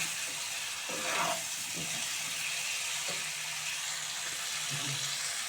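Rohu fish fries in oil with a dense, even sizzle heard close, broken by a few soft clinks and scrapes from turning the pieces.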